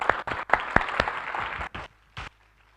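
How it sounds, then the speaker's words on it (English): A meeting audience gives a short round of applause for the recording team, with a burst of clapping that stops after about two seconds, followed by a last brief patter. "Please give them a round of applause"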